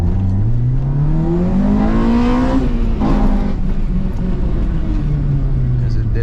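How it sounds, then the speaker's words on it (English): A close, loud Acura RSX Type S engine pulls hard in first gear, its pitch rising steadily before easing off, while a person talks over it. "I figured I'd show you guys how these tires do on a first gear pull"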